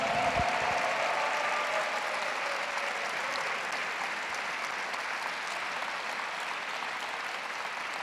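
Sustained applause from a church congregation, a thick, even roar of many hands clapping that holds strong and only eases slightly toward the end.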